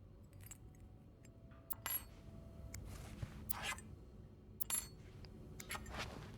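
A set of keys handled in the game This Bed We Made, giving faint, intermittent metallic jingles and clinks spread across a quiet background.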